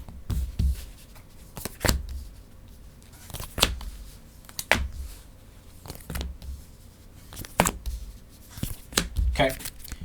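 Brisk riffling bursts of cards being shuffled for a board game, repeating every second or so, close by, with a person talking intermittently between them.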